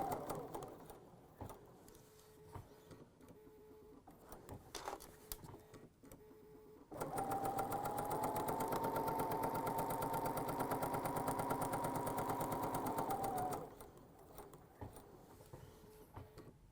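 Sewing machine stitching fabric for a scalloped ruffled pillow: a steady, loud whirring run of about seven seconds in the middle, with quieter handling noises before and after.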